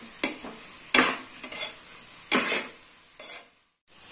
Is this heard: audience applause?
no